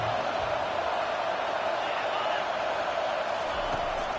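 Home crowd noise in the NCAA 25 college football video game, Arkansas against Mississippi State, a steady, dense roar held at an even level from start to finish with no clear peaks.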